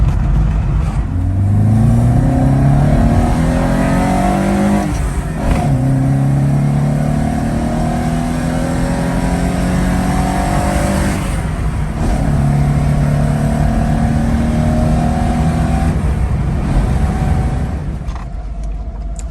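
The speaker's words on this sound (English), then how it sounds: "This next bit's really scary because Georgina's driving it for the first time" A 1977 Alfa Romeo Alfasud driving on an Italian road, heard from inside with a loud, steady engine drone that climbs in pitch through several gear changes and accelerations, with no talking.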